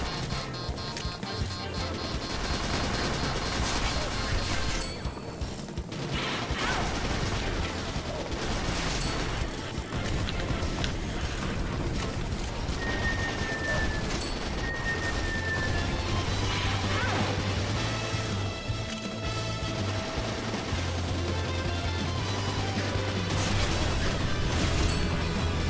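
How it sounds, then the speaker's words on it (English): Grenade blasts and gunfire go off in the Metal Slug arcade shooter, a dense run of crashes and bursts layered with game music and a voice talking over the action. "Why am I using grenades?"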